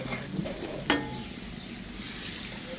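Spices with turmeric, chili powder, coriander, cumin, salt and green chilies fry in a pan for a meat khichuri, giving a soft steady sizzle with one brief clank of a utensil near the start.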